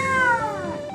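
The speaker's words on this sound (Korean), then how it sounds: "고양이 소리를 들려드리겠습니다." A single cat meow, falling in pitch, plays loud and clear from the speaker of a homemade Raspberry Pi smart mirror running Google Assistant.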